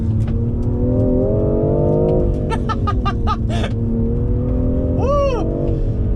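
A BMW M340i with all-wheel drive in Sport Plus mode, traction control off, accelerates hard in first gear, its engine note climbing loudly and steadily, with short sharp bursts near the end.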